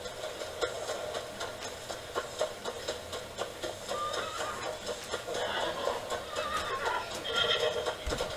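A horse neighs in the samurai action game Rise of Ronin, a short whinny set within a busy bed of game music and ambient effects.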